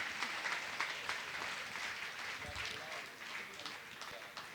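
Faint, distant clapping from an audience in a religious gathering hall, a scattered patter of hands that stays low in level and continues steadily for several seconds.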